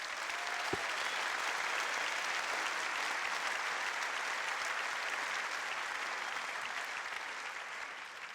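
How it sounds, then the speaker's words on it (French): An audience at a public talk applauds the volunteers who helped run the event, a steady, even wash of many hands clapping at a moderate distance, sustained without pause and fading slightly at the close. "Je pense qu'on peut les applaudir."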